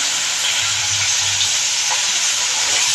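Steady, loud frying sizzle from a pan of tempered rice for breakfast, with turmeric just added to the hot oil. The hiss runs continuously and close, with no voices.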